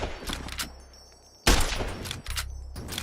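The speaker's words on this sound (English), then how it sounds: "I'm having to use so many bullets on him." Gunfire in Fallout New Vegas on a modded PC game: a few rapid bursts of shots, then a brief lull and a sharper, louder volley, with a low hum underneath.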